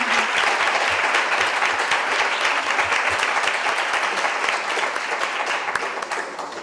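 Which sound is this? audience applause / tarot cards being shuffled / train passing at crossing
audience applause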